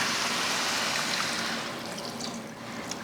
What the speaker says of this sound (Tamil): இப்போ தண்ணி சேர்த்துலாம்.